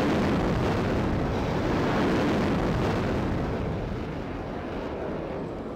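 Missile launch from a warship in the naval combat game Sea Power: a loud, sustained broadband roar that holds steady for several seconds and then eases off slightly, with no voices.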